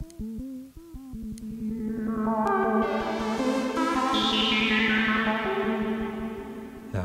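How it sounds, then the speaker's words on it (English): Pocket Operator synthesizer playing a melodic sequence through a reverb effect, notes starting dry and short then swelling into a dense, washy, dreamy echo tail that builds in brightness before fading. "Let's drop that reverb back on."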